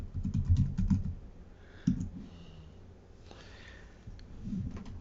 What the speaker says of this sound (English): Now let's type it in.